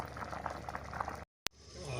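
Water simmers in a pot of pulao rice, a dense bubbling hiss that is loud and close, cutting out abruptly for a moment before resuming more softly.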